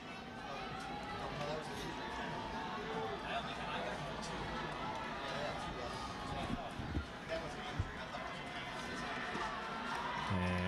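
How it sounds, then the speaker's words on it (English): A crowd in the stands at a high school football game between Rossford and Swanton keeps up a constant murmur and chatter with scattered cheering, heard at a distance. A commentator talks over it. "Crowd in the stands getting pumped up, trying to get behind their team."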